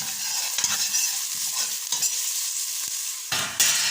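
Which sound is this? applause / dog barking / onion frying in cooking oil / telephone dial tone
onion frying in cooking oil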